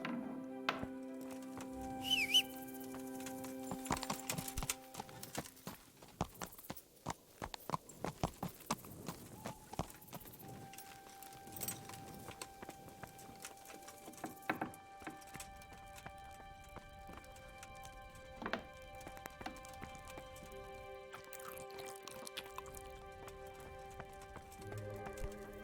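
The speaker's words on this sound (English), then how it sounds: "We're on the horse." Horse hooves clip-clop steadily as a rider travels in the medieval game Kingdom Come: Deliverance, an uneven series of hoof strikes over faint ambient background.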